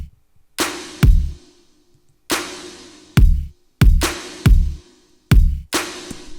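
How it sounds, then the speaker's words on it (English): A simple electronic drum beat for a drop: punchy kicks and a half-time snare hitting alone in a sparse, repeating pattern, each hit sharp with a short decaying tail, about ten hits. "The kick sounds nice, and the snare sounds nice"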